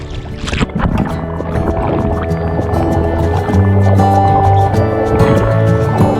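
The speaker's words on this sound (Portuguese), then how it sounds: "Vem pra esse primeiro mergulho" Underwater splashing and gurgling from a person diving and swimming in fresh water at the Lençóis Maranhenses lagoons, steady, close and continuous with bubbling churn; a faint tonal hum runs beneath.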